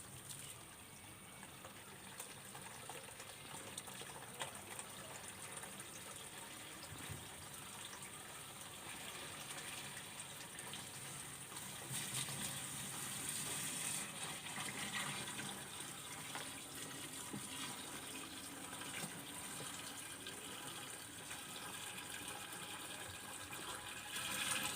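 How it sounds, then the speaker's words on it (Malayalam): Ten litres of water poured into a jerrycan beside banana plants, a faint, continuous gushing and trickling fill lasting the whole stretch with no speech. "പത്ത് ലിറ്റർ വെള്ളം നമ്മൾ ഈ കന്നാസിനകത്ത് ഒഴിച്ചു കൊടുത്തു."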